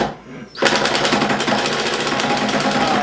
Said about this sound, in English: That's with the brushless driver.